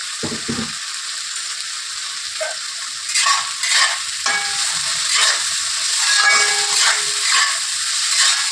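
Bitter gourd with salt and turmeric powder frying in a pan, a loud, close hiss of sizzling oil broken by repeated stirring scrapes and clatters that grow busier partway through.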